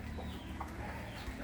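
Upgraded native hens cluck softly and continuously nearby, a brief burst of farmyard fowl sounds with no talk over them.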